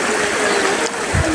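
Irrigation water runs steadily into a farm field in a continuous rushing, trickling wash, with a soft low thump near the end and no voices.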